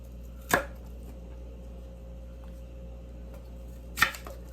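A knife chops through celery stalks on a board, two separate crisp cuts a few seconds apart, close but fairly soft over a quiet room hum.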